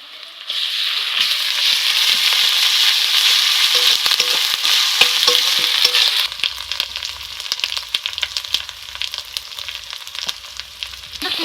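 Ginger garlic paste hits a hot pan of fried taro with a loud, steady sizzle that quietens after several seconds into softer crackling and stirring clatter.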